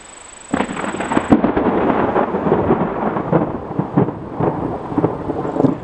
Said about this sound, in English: that's the first time lightning struck the property